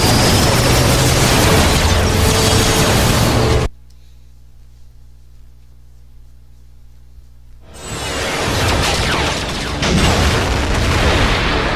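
Heavy explosions in the Transformers Prime video game, a loud roaring blast that cuts to near silence with only a low hum, then returns as another sustained, rumbling wave of explosive noise.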